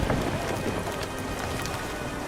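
Dense, steady downpour of heavy rain fills the scene, a continuous close hiss of drops with no voices over it.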